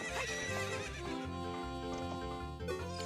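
Horse in The Legend of Zelda: Ocarina of Time neighs loudly with a long shaky whinny, close and clear with almost no talk over it.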